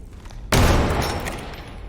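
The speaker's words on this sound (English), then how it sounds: "So shoot at this wall right underneath me." In a video game, a sudden loud burst of gunfire strikes a wall, rattling off in fast repeated shots that slowly trail off after the sharp onset.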